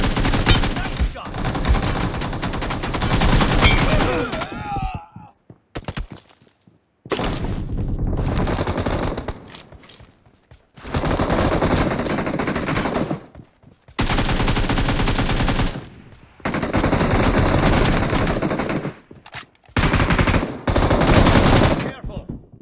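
Loud automatic gunfire from the video game PUBG, heard during team deathmatch play, comes in long sustained bursts split by short silent gaps, close and dominant throughout.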